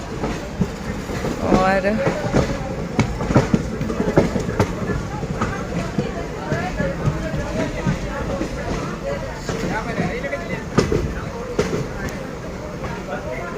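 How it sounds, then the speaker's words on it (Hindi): A departing passenger train rolls along the rails with a steady rumble and repeated clickety-clack from the wheels, close and loud throughout, while someone speaks briefly over it. "ये निकल चुकी है हमारी ट्रेन, कर चुकी है डिपार्चर"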